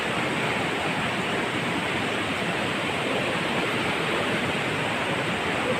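A mountain waterfall roars loud and steady throughout, a dense, unbroken rush of water close by with no voices over it.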